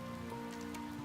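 Steady heavy rain hisses on surfaces in a dense, even wash with a strong wind at a roadside market stall, continuous and moderately loud with no voices.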